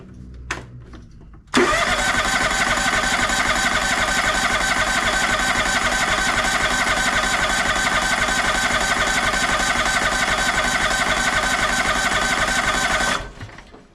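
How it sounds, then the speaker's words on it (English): A John Deere X540 lawn tractor engine is cranked over, holding a loud, steady mechanical drone close by for about twelve seconds before cutting off abruptly. "turn it over a couple times and see what kind of fuel flow we're getting"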